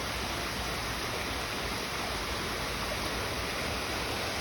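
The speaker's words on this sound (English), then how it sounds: "Rich water flowing right down there." A brook's flowing river water makes a constant, loud broadband rush with no breaks or variation, close and steady throughout, with nothing else audible over it.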